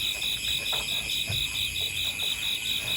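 Crickets and frogs call outdoors near rice fields in Laos, with a constant pulsing insect trill carried over faint croaks and soft background rustle, loud and steady with no talking.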